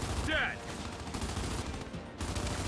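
Long-range gunfire in the video game Gears 5, with a brief sharp shot near the start over a steady game backdrop of rumbling ambience, fairly quiet overall.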